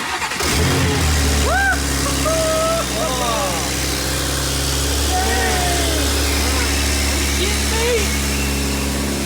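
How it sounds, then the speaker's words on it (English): A rebuilt 2023 BMW M3 engine with a brand new exhaust cranks and fires up, settling into a loud, steady idle with a low rumbling drone and people talking over it. "Let's see if this thing will fire up with a brand new exhaust."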